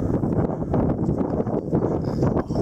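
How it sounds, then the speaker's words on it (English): Strong wind during a spring wind storm buffets the microphone in a dense, steady roar with rushing swells and rustling, loud and close throughout. "there's that one big gust that kicks it back up"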